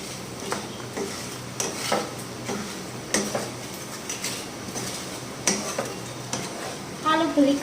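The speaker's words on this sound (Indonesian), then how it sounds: "Ini kalau ngembang, ini minyaknya lari-lari kemana-mana guys" Kerupuk crackers fry in hot oil, giving a steady bubbling sizzle broken by repeated scraping and stirring strokes of a utensil in the pan, with a brief louder clatter at the end.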